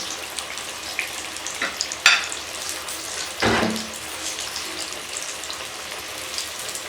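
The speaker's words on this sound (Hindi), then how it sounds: "ये देखिए, ये हमारे कबाब फ्राई हो गया।" Beef shami kababs fry in a pan with a low steady sizzle, broken by a couple of sharper spatters and a louder hiss as one is moved or turned.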